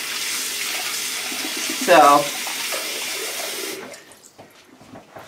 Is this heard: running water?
yes